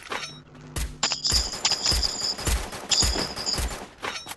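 Rapid bursts of rifle gunfire in a battle royale shooter game, with repeated close shots in quick volleys and a high ringing tone over them, loud and steady across the whole stretch.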